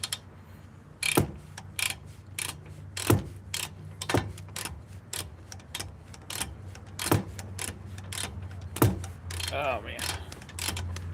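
A long torque wrench ratchets while car brakes are being swapped, giving a series of sharp mechanical clicks and bursts at an irregular pace over steady background hum, with a brief spoken exclamation.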